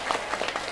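Audience clapping at an Islamic sermon in a Ciamis pesantren, a brief burst of scattered claps lasting under a second.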